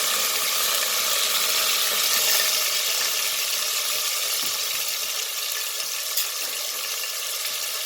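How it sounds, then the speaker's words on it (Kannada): Chopped onion frying in about two to three tablespoons of hot oil for avare kaal bhat, giving a steady, close broadband sizzle that holds evenly throughout with no talking. "ಈಗ ಆನಿಯನ್ ಆ್ಯಡ್ ಮಾಡ್ತೀನಿ, ಈರುಳ್ಳಿ ಆ್ಯಡ್ ಮಾಡ್ತಾಯಿದ್ದೀನಿ."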